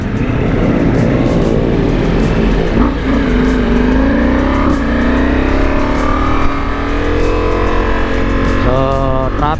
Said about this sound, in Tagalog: So here is his Ducati Rossi.